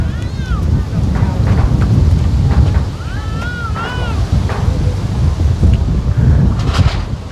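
Wind rushes across an open rural plot of land in Laos, strong and steady. It comes through as a gusty roar that dominates throughout, with faint chirping and distant sounds mixed in.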